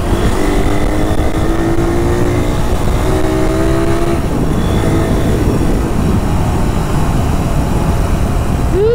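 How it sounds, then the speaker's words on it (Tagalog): A motorcycle engine on a long ride hums loudly and continuously, a steady droning roar with wind rush, holding an even pace with slight pitch shifts partway through. "Ganda ng takbo ng motor"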